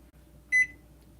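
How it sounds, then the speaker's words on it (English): An oven timer being set gives a single short electronic beep, clear and close, in an otherwise quiet kitchen while a pizza is made. "now we're gonna put the timer on"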